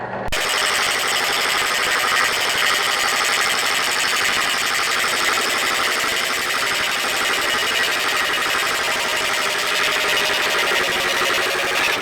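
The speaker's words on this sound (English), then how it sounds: "Just going to drill a hole all the way through." A drill bores a hole straight through a red oak cutting board into scrap pine, giving a loud, continuous, harsh whirring grind that begins abruptly and runs without pause.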